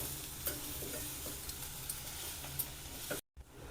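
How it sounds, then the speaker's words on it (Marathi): Jaggery and grated coconut stirred together in a pan: a soft, steady scraping texture with occasional spoon clicks, fairly quiet and close, ending with a brief cut to silence. "गूळ आणि खोबरं आपण चांगलं असं मिक्स करूया."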